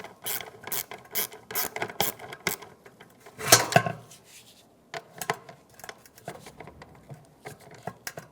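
Quarter-inch socket wrench ratcheting out the screws of a 1992-1996 Ford F-150 fuel level sensor, rapid bursts of clicking with a louder metallic scrape midway and scattered smaller clicks and rubs afterward, no talking.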